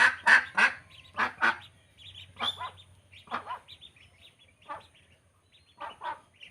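Loud quacking bursts from ducks nearby, several calls in quick succession at first, then sparser honking quacks trailing off with quiet gaps between.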